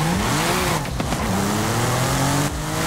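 A car launching hard from a standstill with launch control, its engine held at full throttle then surging as revs climb in rising tones, loud and close with a brief tire squeal.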